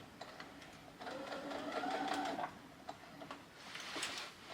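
A sewing machine stitches a tote bag with a fast, ticking mechanical whir that runs in short stretches, fairly faint and close.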